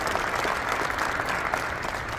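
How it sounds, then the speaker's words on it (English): A press-conference audience applauds for a new Alabama A&M football coach, a steady dense wash of clapping from a crowd in the room, holding at an even level throughout. "Give them a warm round of applause,"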